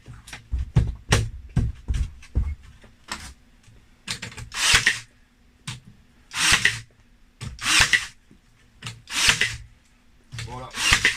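A Ryobi R18N18G cordless nailer drives nails into wood, each shot a sharp thwack with a hissing burst, repeated at a steady pace while someone talks in French between shots.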